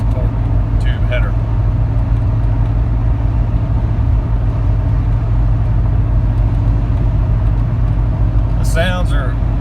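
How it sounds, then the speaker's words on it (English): Inside the cab of a Jeep Cherokee with a Flowmaster Super 10 exhaust and Banks torque tube header, a steady low exhaust drone and road noise hold constant throughout, with someone talking briefly over it. "this is the Flowmaster Super 10, mainly with the sound and the Banks torque tube header"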